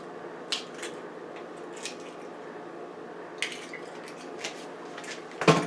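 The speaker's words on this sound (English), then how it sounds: "I'm going to crack the egg in a bowl separately first." An egg is cracked into a separate bowl in a kitchen while making baked turkey meatloaf, giving soft taps, cracks and a wet squish, quiet and close, followed by a small clink at the end.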